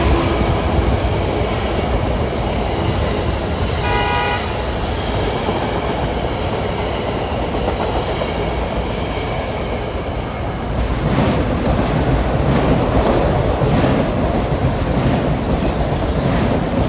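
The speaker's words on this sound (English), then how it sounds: "Got the rush hour trains coming in." A Long Island Rail Road rush-hour commuter train rolls in loud and close, a steady rumble of wheels on rails with a brief tonal horn toot, the noise swelling further near the end.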